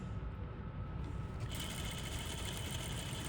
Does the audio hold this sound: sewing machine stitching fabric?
yes